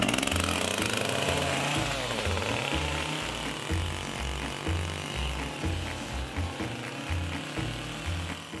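A chainsaw carving wooden troll figures drones steadily at moderate distance, its engine pulsing in repeated surges as the blade works the wood, with no talk over it.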